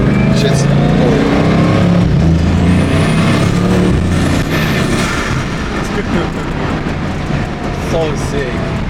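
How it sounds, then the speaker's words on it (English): A Bugatti's engine and turbos roar loudly and steadily, with turbo whistles and whooshes rising above the engine rumble, while people talk over it. "the sounds are sick. The turbos."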